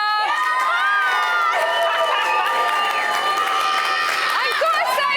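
Big Brother studio crowd cheering and shouting as an evicted housemate appears, a loud, continuous wall of whoops and high-pitched screams without a break.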